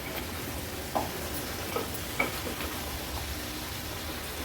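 Fish and vegetables being stirred together in a pan give a low, steady sizzle with a few soft scrapes and taps of the spoon.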